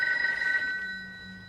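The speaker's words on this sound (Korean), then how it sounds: "창밖을 본 포터는 조직의 킬러들이 자신의 집에 전화를 걸고 있는 것을 봅니다" Telephone bell rings in a safe-house room in a crime film, a bright electronic trill that fades out within a second, leaving low room hum.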